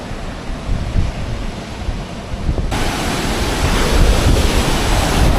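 Monsoon sea waves roll in at Mandarmoni beach, a steady loud roar of surf with wind noise, building a little heavier midway and continuing without pause.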